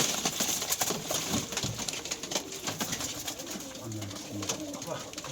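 Domestic pigeons coo softly in low, rolling bursts amid a busy flock, with fluttering and shuffling around them and someone talking at times over the birds.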